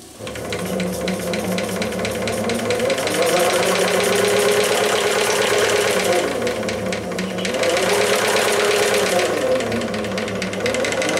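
Live steam exhaust from a San Julian 2 model steamboat's 3 cc JMC engine hisses through a long, thin pipe: a loud, steady broadband rush over the engine's fast rhythmic chugging, running throughout.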